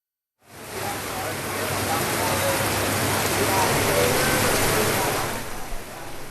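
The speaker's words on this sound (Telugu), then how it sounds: "ఓల్డ్ సిటీ ఏరియాలో చాలా ప్రాంతాల్లో వర్షం పడుతోంది" Heavy rain pours steadily across streets in Hyderabad's Old City, a dense, loud hiss that starts abruptly and holds evenly throughout before easing slightly at the end.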